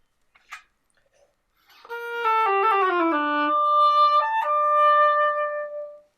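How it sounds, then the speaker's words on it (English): A reedy woodwind tone, close and clear, playing a short falling run of notes and then holding a long sustained note after a brief tap. "when I put into my oboe, it sounds like this"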